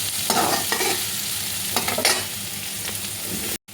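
Soybean chunks sizzle steadily in a hot pan while a spatula stirs and scrapes them in several close, distinct strokes. There is no talking.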